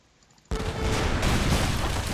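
Cannons firing at ships in the video game Age of Mythology, an abrupt loud boom that erupts after a quiet moment and swells into a sustained roar of overlapping blasts and rumble.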